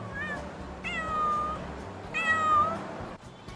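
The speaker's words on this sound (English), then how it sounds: "A lot of hungry cats, actually." Hungry stray cats on a Manila street meow in three drawn-out, plaintive calls, close and clear over quiet street background.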